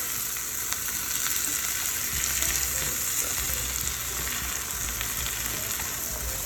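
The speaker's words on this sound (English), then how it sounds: "Now let's go ahead and add the spinach. Let's saute a bit." Spinach sautéing with caramelized onions in a pan for braised lamb chops, giving a steady, even sizzle that holds at one level throughout with faint low rumbling underneath and no talking.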